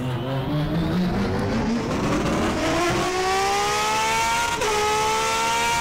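A Ford TC 2020 race car engine roars on track, revving hard with rising pitch through gear changes. It is loud and sustained, with no talk over it.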